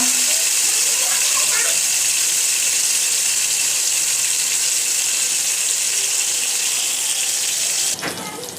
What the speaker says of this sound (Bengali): রুই মাছ দিয়ে দেব। তেলটা গরম হলে ভেজে নিব হালকা।